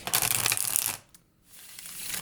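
Tarot cards riffle and shuffle briskly in a crisp, papery burst, pause briefly, then shuffle again more softly.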